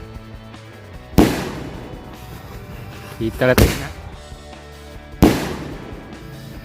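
Large New Year firecrackers explode outdoors in three loud, booming blasts spaced a few seconds apart, with crackling between them and a voice talking.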